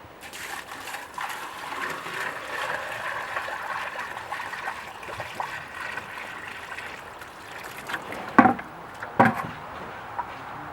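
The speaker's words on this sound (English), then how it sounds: "We're going to fill up our pump bucket" Water pours from a bucket into a pool pump's strainer basket during a spring pool opening, a steady soft splashing and trickling close by, ending with a couple of sharp plastic knocks and clunks.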